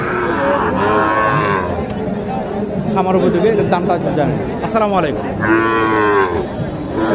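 A local cow at a busy cattle market in Naogaon moos loudly and repeatedly, with long low calls rising over nearby crowd chatter while people talk close by.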